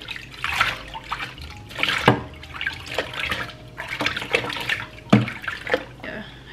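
Water splashes and trickles as soap is rinsed off a kitten in a bath, in uneven bursts with louder pours, while people talk softly nearby.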